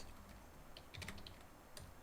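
Soft, fairly distant taps on a computer keyboard come in a few scattered clicks and short bursts over a steady background hiss, with no voices over them.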